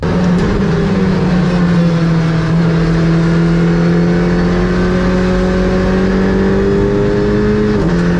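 A race car drives back out onto a wet, waterlogged circuit, its engine droning steadily and loud up close with pitch slowly rising and falling, then dropping sharply near the end as it lifts off.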